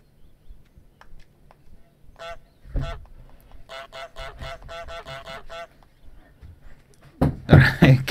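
Goose honks from Untitled Goose Game: a quick pair of honks, then a longer run of rapid repeated honks, fairly loud and alone, ending in a louder noisy burst of game sound.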